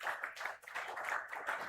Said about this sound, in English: Can you please have a huge round of applause for all our panelists?